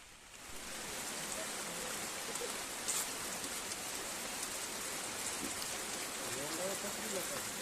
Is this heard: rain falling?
yes